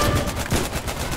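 Rapid machine-gun and rifle fire in the war video game Foxhole, a loud close burst of repeated sharp shots across about a second with no talking.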